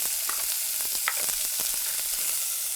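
Onion, carrot and celery mirepoix browning in a hot pan for braised short ribs, a steady close sizzle and crackle with a few scraping stirs of a spoon.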